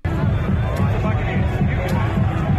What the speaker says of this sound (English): All right, let's listen to the crowd again.